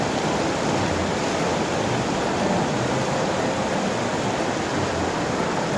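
A strong river current rushes in a steady, loud, broadband roar of churning water, continuous and close with no voices.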